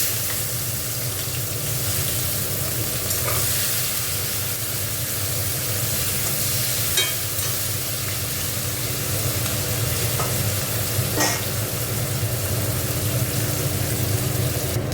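Onion fries loudly in hot oil alongside fried artangra fish, garam masala and bay leaf, a dense, continuous crackling sizzle that holds steady throughout, with faint scattered pops and no talking.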